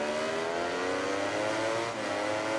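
At the start of a MotoGP 19 race at Jerez, a crowd of racing motorcycle engines revs and drones loudly, their pitches climbing together in a dense, continuous whine as the bikes pull away.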